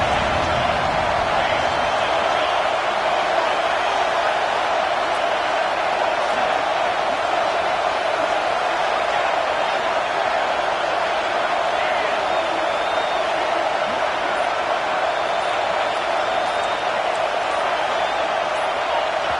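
Steady roar of a stadium crowd in an NCAA football video game, a loud continuous wall of noise with no breaks, sustained throughout.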